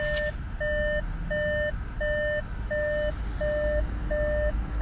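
Audi A3 e-tron, a 2016 model, emitting regular reversing beeps after being put into reverse, seven evenly spaced clear tones about every half second, steady and close with no speech.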